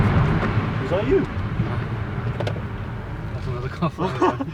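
A car drives past on a Birmingham road, its engine noise rising and fading under nearby talk.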